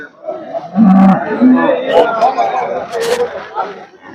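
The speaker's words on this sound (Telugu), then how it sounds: "ఈ వారం అయితే వచ్చిన ఆవులండి కొద్దిగా తక్కువగానే ఉన్నాయి" HF and Jersey cows moo at the weekly cattle market in Punganur, with several loud, close moos over a busy crowd chattering in the background.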